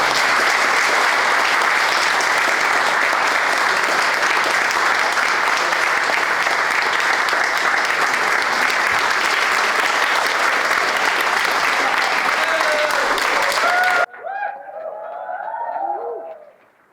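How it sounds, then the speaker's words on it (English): Loud, sustained audience applause for a guest at a conversation session roars evenly for about fourteen seconds, then cuts off abruptly, leaving a few pigeon-like coos alone in the quiet. "let's have a big applause for Riyaz"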